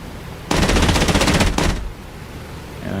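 A Bf-109's guns fire in the DCS flight simulator, a loud rapid burst of automatic fire lasting about a second, briefly pausing and resuming with a short final volley, then fading to quieter engine and ambient noise.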